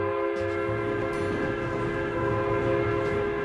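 A train passing, heard as a steady, sustained horn-like tone over a low rumble and rolling clatter, loud and continuous from start to finish.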